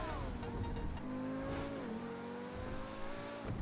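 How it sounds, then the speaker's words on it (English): A powerful T-20 supercar engine in the video game GTA V revs and holds a high whine, pitch rising and dipping as it accelerates, loud and continuous. "No other supercar sounds like that"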